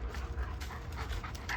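MuFaSa, a young dog, pants close by in quick, rhythmic breaths, each soft huff and wheeze following the last in an even, steady beat with no voices.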